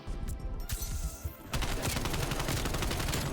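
A Soviet rifle fired in Call of Duty, a loud, steady stream of rapid shots that kicks in sharply partway through after a few scattered earlier cracks.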